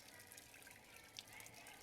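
Faint running water in the Bibi Blocksberg: Ein verhexter Schultag video game, a quiet steady trickle like a tap flowing, low and distant in the background.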